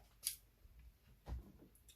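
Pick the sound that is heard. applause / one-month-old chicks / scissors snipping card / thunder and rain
scissors snipping card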